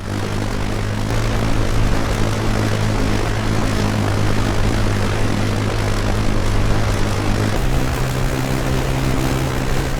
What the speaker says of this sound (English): The plane has a speed of about 440 km per hour, has a range of up to 27 hours of flight, flying about 15 km high.